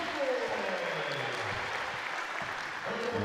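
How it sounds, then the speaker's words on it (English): A crowd applauds steadily at a medal ceremony for the Sheffield Steelers after the 2019 National League Premier Division Final, a dense sustained clapping heard beneath a commentator's voice. "a big round of applause from the crowd"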